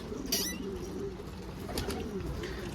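Fitilli pigeons coo softly in a loft, low and steady, with a faint chirp and light rustling mixed in.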